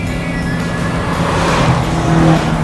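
Toyota AE86 hatchback on racing coilovers straining through the mountains without air conditioning, a loud continuous engine drone from inside the car, pitch rising slightly as it pulls.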